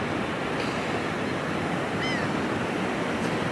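Steady, continuous roar of surf breaking at a beach on a mild day, a broad unbroken wash of waves close by with no talking over it.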